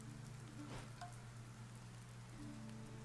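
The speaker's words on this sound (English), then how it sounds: "Still raining, huh? It's actually a storm." Steady rain from a storm in the survival game Dead in Vinland, a soft continuous patter of drops on surfaces with a low droning tone beneath, heard alone.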